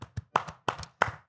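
Podcast hosts clap in a short, irregular burst of about five or six close, crisp hand claps, some doubled, close to the microphone with no talking.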